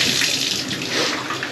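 A household water tap, just turned on after a long winter, runs in a steady, loud hissing stream with no pauses and no voices.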